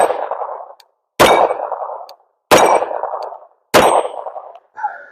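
9mm pistol shots, an OAK Plus fitted with a wide optic, strike a steel target, four loud sharp reports each followed by a ringing clang, spaced over a second apart, with a fainter final ping.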